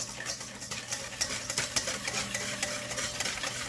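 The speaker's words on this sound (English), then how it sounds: "while whisking, add it very slowly" Hot liquid is whisked into egg yolks and sugar for dark chocolate pot de creme, a close, continuous wet stirring and clinking of the whisk against the bowl with fluttering rhythmic strokes.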